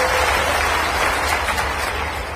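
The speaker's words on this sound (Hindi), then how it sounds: "भारत रत्न स्वर्गीय अटल बिहारी वाजपेयी जी और हमारी इसी बुंदेलखंड की हमारी पूर्व मुख्यमंत्री साध्वी उमा भारती के लिए भी जोरदार ताली बजाएं" Loud crowd applause at a political rally in Bundelkhand honoring Atal Bihari Vajpayee and Uma Bharti, a dense wash of clapping that holds strong then tapers slightly.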